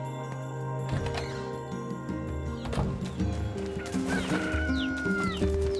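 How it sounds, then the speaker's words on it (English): Rooster crowing from the video game Nier Replicant, heard amid layered in-game music and ambient tones, with a rising call standing out near the end over a steady busy mix. "Rooster Crow."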